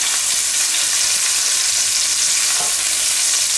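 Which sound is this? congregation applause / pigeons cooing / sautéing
sautéing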